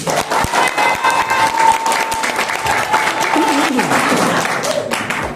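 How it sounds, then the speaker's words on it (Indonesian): Loud applause from a seated audience at a business presentation, sharp dense clapping filling the room and carrying on steadily, with a voice talking through it near the end. "Tepuk tangan yang keras dulu bisnis ini."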